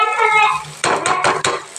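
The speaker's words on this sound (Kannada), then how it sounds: "ಇದು ಒಗ್ಗರಣೆ ಹಾಕಬೇಕು." Tempering for a potato curry lands in a pan with metal clinks and scraping stirs, a few sharp spoon-on-pan knocks in quick succession after a short hiss.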